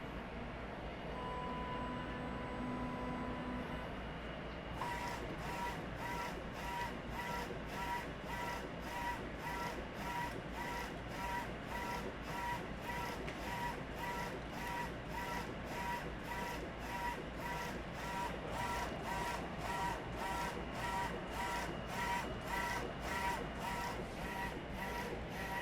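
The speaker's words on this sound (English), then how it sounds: "We're going to hit print, tell it we want it to go on the OmniDTF" An OmniDTF direct-to-film printer running a print job, with steady mechanical hum and a rapid, regular clicking of the print carriage. The clicking starts a few seconds in and continues evenly and close throughout.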